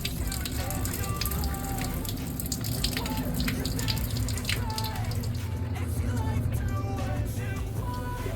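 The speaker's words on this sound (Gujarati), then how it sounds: "પાણી કાઢી નાખીએ" Water splashes and pours steadily as it drains from a pot of boiled potatoes, with light drips and clinks over a continuous low background rumble.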